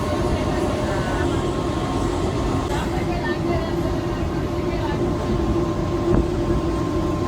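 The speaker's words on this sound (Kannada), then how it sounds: "ಲೋಕಲ್ ಟ್ರೈನ್ ತಗೊಂಡು ಹೋಗ್ತಾ ಇದ್ದೀನಿ." A local train to Neral rumbles along with a steady low roar and rattling carriage noise, voices murmuring faintly beneath the constant din.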